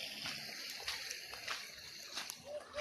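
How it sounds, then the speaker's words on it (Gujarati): Rainwater runs and splashes through a village after a heavy downpour, a steady close wash of flowing water with small splatters, and no voices over it. "જો પાણી શું હેડે છે. જબરજસ્ત વરસાદ પડ્યો હોય."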